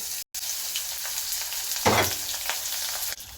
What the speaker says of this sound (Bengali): তেলটা গরম হয়ে গিয়েছে, এখন দিয়ে দেব একটা ইলিশ মাছের লেজ ছিল